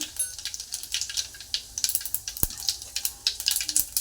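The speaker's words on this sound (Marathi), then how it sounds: "एक चमचा मोहरी घातलेली आहे एक चमचा जिरं घातलेलं आहे" Mustard seeds and cumin crackling in hot oil for a mung bean curry, with sharp rapid popping and sizzling bursts close by, plus a single metallic clink of a utensil.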